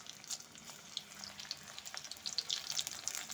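Sesame pakora batter hisses and crackles as it fries in hot oil, a busy, close sizzle with scattered sharp pops and spits throughout.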